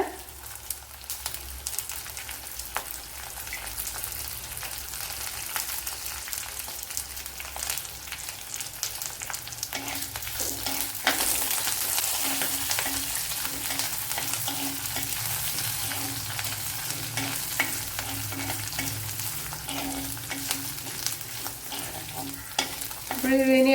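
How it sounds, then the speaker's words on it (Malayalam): Crushed ginger, garlic and curry leaves fry in hot oil for a squid and cauliflower dish, giving a steady crackling sizzle that swells midway, with intermittent spoon stirring and scraping in the pan. "നേരത്തെ നമ്മൾ ചതച്ചു വെച്ച ഇഞ്ചി വെളുത്തുള്ളി അതുപോലെ കറി ലീവ്സ് ഇട്ട് കൊടുക്കുക"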